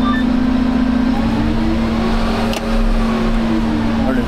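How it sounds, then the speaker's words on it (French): The Mercedes engine of a farm harvesting machine runs close and steady with a sustained droning hum and a slight rise in revs, while a person speaks over it. "Oh, le bruit que ça fait. T'as vu le bruit? Le moteur Mercedes"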